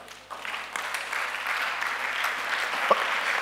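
A church congregation applauds steadily, with the clapping building from a quiet start into a sustained, even wash of hands that carries on to the end.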